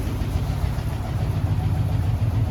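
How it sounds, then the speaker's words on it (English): A Jeep's AMC 327 V8 with new exhaust manifolds idles with a steady, even low rumble and a smooth, quiet beat, heard close and alone. "this sucker is purring. It is quiet."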